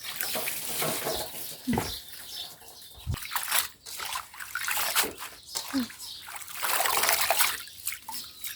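Vegetables being rinsed in a basin of water while a dip sauce is prepared, with trickling, splashing and sloshing that comes in bursts and sits close to the microphone.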